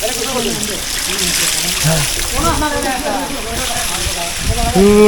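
Water of Mayabi waterfall near Jaflong in Sylhet rushes and splashes in a steady close wash of noise, with people talking loudly over it throughout.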